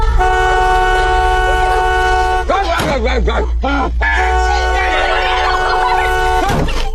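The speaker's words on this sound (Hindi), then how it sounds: "डर के मारे लड़की जल्दी से कार का हॉर्न बजाती है" Loud sustained car horn blasts sound twice with a short break, over a steady low engine hum, followed by a brief clatter of movement.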